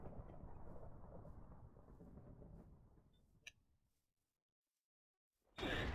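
Thunder from lightning in a Minecraft survival games match rumbles low for several seconds and fades to silence, then a sharp loud crack of a new thunder strike arrives at the end.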